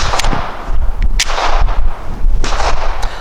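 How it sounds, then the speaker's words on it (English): A custom Glock 43 pistol firing Norma Hexagon 124 grain match ammunition at a target seven yards away, a string of sharp, loud, close reports in quick succession with no talk. "All right, 5 shots from 7 yards."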